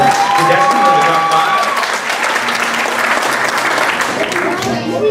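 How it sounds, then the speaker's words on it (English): An audience at a local singing contest breaks into sustained applause and some cheering for a contestant, the clapping loud and continuous while a voice speaks over it. "Please give Dan a nice round of applause."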